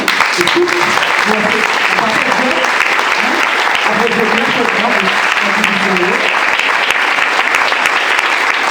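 Warm, sustained applause from a church congregation at a 30th anniversary celebration, a dense steady wash of clapping with voices murmuring and calling beneath it throughout.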